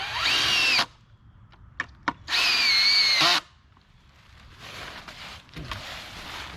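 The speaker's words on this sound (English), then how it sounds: "I'm just going to screw in there with some deck screws." A power drill drives deck screws into a deck board in two whirring bursts, with a couple of sharp clicks between them and faint handling noise afterward, close and fairly loud.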